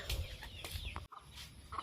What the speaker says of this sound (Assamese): আমাৰ মুৰ্গীকেইটা